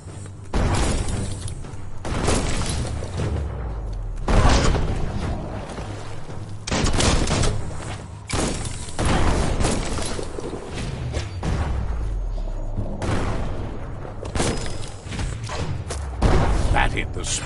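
Explosions from a bomb-lobbing enemy in the video game Biomutant, a string of loud booms and thuds that recur every couple of seconds and sit over game noise, with a voice talking between them.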